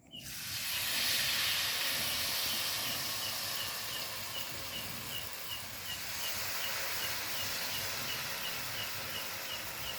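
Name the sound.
frying bakwan vegetable fritter batter in hot oil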